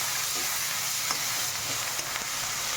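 Chana dal and urad dal frying in hot oil with a little salt and asafoetida, a continuous close crackling sizzle with faint stirring taps and no voices.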